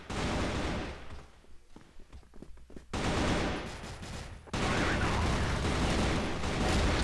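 Rapid AK-47 bursts in the Free Fire game on the Rocha map, dense loud volleys with a short choppy stretch of single cracks, then sustained heavy firing to the end.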